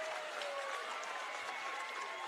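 Basketball crowd at a high school regional game applauding and cheering after a buzzer-beating three-pointer, a dense wash of clapping and shouting heard at a distance, fairly faint, with no clear speech on top.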